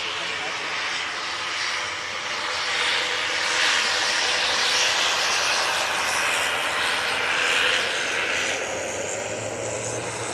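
An Etihad airliner starts its takeoff roll at Manchester Airport, a loud, sustained jet engine roar with a hissing high whine that surges gently as the aircraft accelerates.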